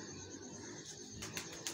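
Pigeons cooing softly at a pigeon-flying rooftop, low murmuring coos over faint background noise with a light flutter near the end, no talk.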